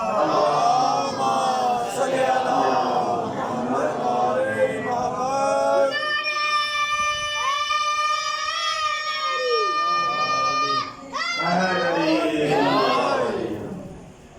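A crowd of children chants religious slogans at a gathering, loud rhythmic group voices calling out together, with a long sustained sung or drawn-out call in the middle before the chanting resumes.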